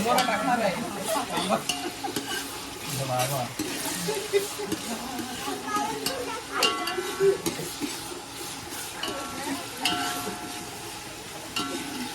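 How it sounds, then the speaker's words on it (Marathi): Onion frying in oil while being stirred in a home kitchen, steady sizzling with scraping of a spoon against the pan and occasional metallic clinks, a voice speaking at times. "कांदा तेलामध्ये जरा गुलाबीसर करायचा आहे"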